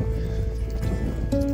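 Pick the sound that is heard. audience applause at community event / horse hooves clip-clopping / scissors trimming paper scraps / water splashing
horse hooves clip-clopping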